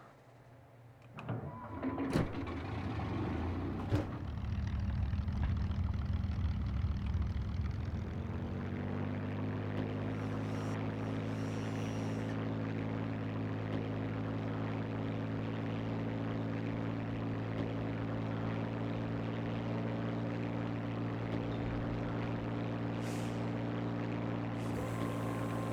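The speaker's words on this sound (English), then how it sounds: "I guess I'll take off too so you can hear the engine sounds" A WWII aircraft engine in Arma 3 Spearhead 1944 sputters and catches, then settles into a loud, steady propeller drone that holds for the rest of the take-off run.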